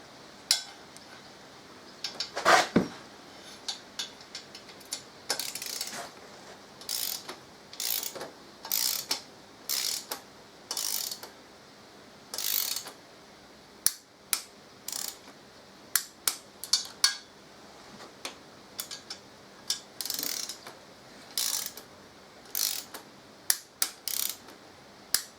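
Torque wrench tightening exhaust bolts on a 2014 Harley-Davidson Electra Glide, a long run of sharp close ratcheting clicks in short repeated bursts with brief gaps, loud against a quiet background.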